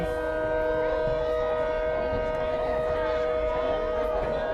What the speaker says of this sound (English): And that is a train. He's going to lay on his horn now.